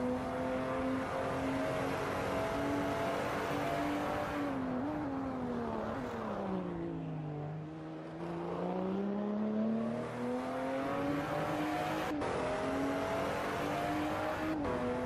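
Race car engines in a sim racing game at the Spa circuit, a steady loud drone held throughout that dips in pitch midway and then climbs back as the car accelerates, with no talk.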